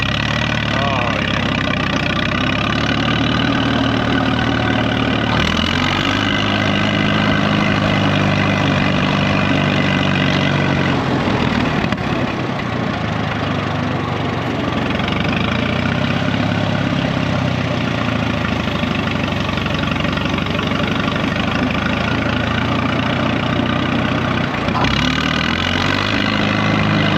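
Engine of a 1936 barn-find tractor running steadily as it drives, a loud continuous mechanical rumble with shifting load, while people talk over it.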